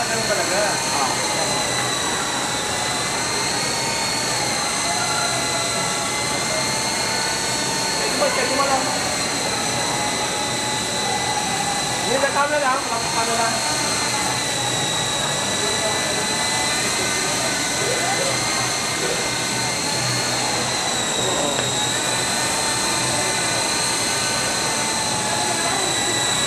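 Three small coaxial model helicopters, an R22, a Comanche and a Kestrel Mini 500, fly together with a continuous high-pitched motor and rotor whine that stays steady and close throughout, while people talk over it.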